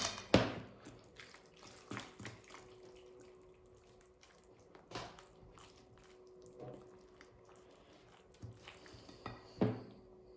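Warm water poured slowly into a flour and salt dough mixture in a bowl for soft poğaça, with intermittent splashing and a few sharp clinks of utensils against the dish, no talking.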